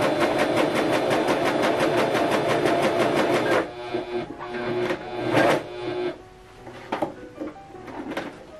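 Pfaff coverlock 4.0 machine stitching a knit seam, a fast loud rhythmic chatter for about three and a half seconds, then stopping and giving way to softer handling clicks and rustles.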